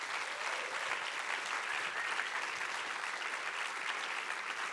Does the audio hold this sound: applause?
yes